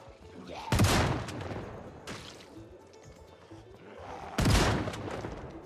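Gunfire in the zombie survival game Project Zomboid during a multiplayer hospital raid: two loud, sharp shots about four seconds apart, each with a short ringing tail, over a busy background.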